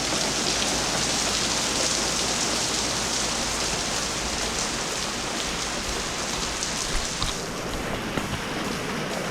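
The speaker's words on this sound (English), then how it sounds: "So today, it's obviously raining outside." Steady heavy rain pours down outdoors, a dense continuous hiss of drops hitting surfaces with no voices, holding at an even level throughout.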